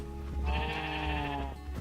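A single drawn-out sheep bleat from a blocky island survival game, close and fairly loud, rising and trembling for about a second over a faint low rumble.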